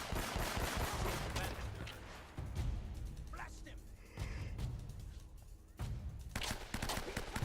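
Rapid bursts of gunfire in the Uncharted video game, with repeated sharp shots and stretches of automatic fire separated by brief lulls, played under a speaking voice.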